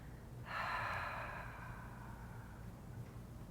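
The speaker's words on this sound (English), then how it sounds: "really soft exhale" One soft, breathy exhale through the mouth during a quiet prenatal yoga relaxation, close and gentle, rising quickly and then fading slowly over a couple of seconds against near silence.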